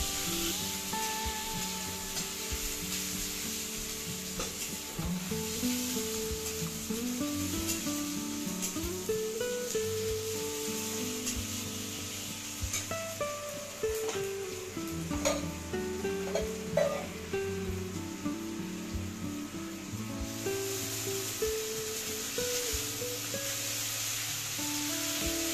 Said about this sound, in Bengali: লঙ্কা কালো জিরা ফোড়ন দিয়ে তার মধ্যে পেঁয়াজ কুচি দিয়ে দিচ্ছি। পেঁয়াজটাকে ভালোভাবে ভেজে নিতে হবে।